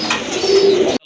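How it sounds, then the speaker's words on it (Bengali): A colorful pigeon gives a brief, close coo lasting about a second, loud and low, then cuts off. "খুবই চমৎকার কালারফুল এক জোড়া কবুতর"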